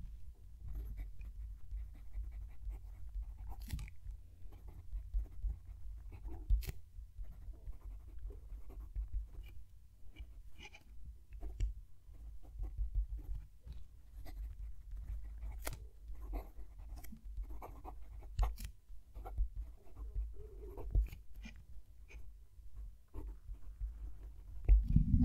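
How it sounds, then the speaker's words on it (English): Steel nib of a Jinhao 9019 or Ranga Model 5 fountain pen writing a sentence on paper, heard close-miked as faint scratchy strokes and small taps over a low steady hum, with no talking. "I'm going to move the mic down to the page and write a sentence."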